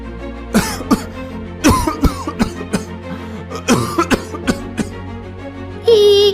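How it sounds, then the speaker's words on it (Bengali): A person coughing in repeated harsh bursts, several fits spaced irregularly and close by, with throat clearing between them. "আপনি কাশছেন কেন?"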